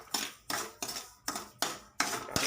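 Semolina being stirred and roasted dry in a pan for kesari, with five evenly spaced scraping strokes of a spoon against the metal, close and clear in a steady rhythm.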